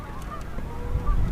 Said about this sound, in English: And these Canada geese.